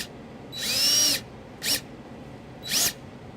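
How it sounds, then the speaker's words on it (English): A power drill drives a sheet metal screw through a ground-wire eyelet into the body of a 2012 Dodge Journey, three whining bursts, a long one then two short, close and loud with no talk. "we're going to use the provided sheet metal screw through the eyelet into the hole to secure our ground"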